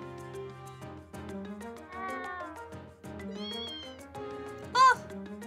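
A kitten meows repeatedly in the video game Trails of Cold Steel, a run of plaintive, wavering calls over soft background music, ending in a sharp, louder squeal.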